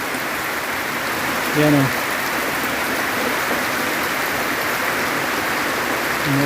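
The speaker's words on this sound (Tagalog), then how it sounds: "Umuulan dito sa amin mga kaibigan" Steady rain falls on crops around a rural home in Bayawan City, a dense, close, continuous wash of water hitting surfaces, with someone briefly speaking over it twice.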